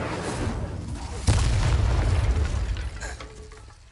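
A fire spell blast from the Hogwarts Legacy game erupts in a sudden loud boom at about 1.3 s, then rumbles on over a dense backdrop of game noise and lingering combat sounds before fading.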